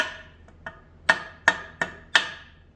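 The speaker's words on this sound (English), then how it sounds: "Nice brass hammer so we don't hurt anything." A brass hammer taps on parts of a disassembled Mazda 20B three-rotor engine while the rear bearing and plate are worked loose, about six ringing metallic knocks at uneven intervals, close and alone.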